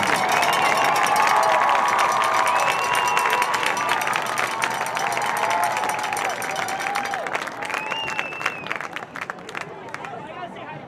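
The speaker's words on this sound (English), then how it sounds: "Let's give Will a big round of applause" A stadium crowd at a high school football game applauds and cheers for an honored soccer player, a loud sustained roar of clapping with whoops and shouts and voices chattering beneath.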